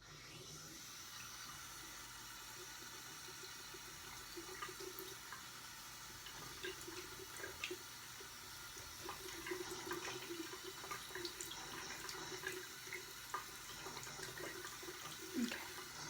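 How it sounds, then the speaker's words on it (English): A sink tap runs while hands are washed beneath it, a steady close rush of water with faint splashing and rubbing over the flow. "I'm just going to wash my hands in the sink here very quickly."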